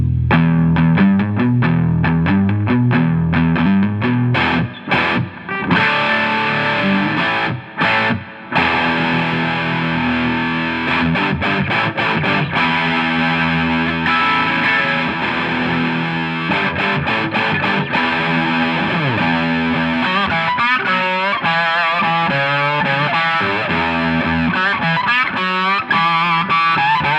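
Electric guitar played through a Rivera Knucklehead reverb combo amp on channel 2, loud and heavily distorted with chorus-like effects, dense sustained chords and riffs running continuously with a few brief gaps near the start.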